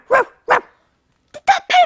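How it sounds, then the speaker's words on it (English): A cartoon dog barks from inside a pencil case in a children's animated show: two loud yips, a pause, then a quick burst of three more barks, close and clear with no talk over them. "Did that pencil case just bark?"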